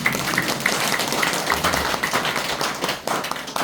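An audience at a church lecture gives a quick round of clapping, a loud, close patter of hands that lasts a few seconds and then thins out.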